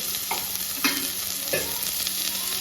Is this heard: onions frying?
yes